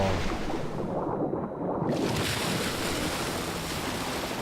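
Water and waves wash in the Modern Warfare 3 video game, a steady loud broadband roar of surf with wind-like rushing that never lets up.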